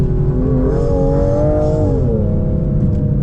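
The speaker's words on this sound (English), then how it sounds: "You can hear the turbo sneezing and whistling." A 2025 Aston Martin Vanquish at full throttle, heard from inside: a loud, steady engine roar with a rising tonal whine that dips and settles as the car accelerates.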